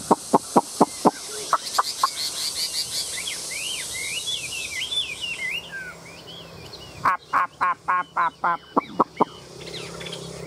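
Chinese hwamei songbird singing alone, loud and close, with bursts of sharp repeated notes, a run of fluid warbling phrases in the middle, then another series of strong rhythmic calls.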